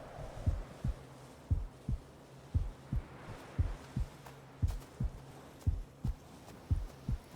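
Steady heartbeat-style music from the game Gerda: A Flame in Winter, a deep double-thump pulse repeating about once per second, low and muffled, alone with no talk.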